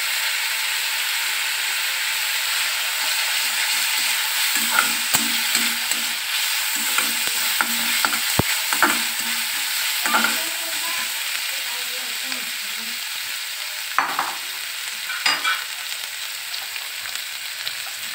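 Ginger paste sizzles steadily in a hot pan while a spoon stirs it, with scraping strokes and small clacks sounding over the constant frying hiss.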